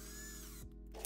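A power drill whines steadily while boring a hole through the metal body of a van, then briefly drops in pitch and cuts out near the end of the short burst.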